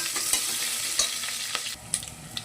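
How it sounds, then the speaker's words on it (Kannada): Onion with mustard seeds and curry leaves frying in oil, a close, bright crackling sizzle with quick stirring scrapes and small pops, dipping slightly toward the end. "ಈಗ ಈರುಳ್ಳಿ ಫ್ರೈ ಆಗಿದೆ"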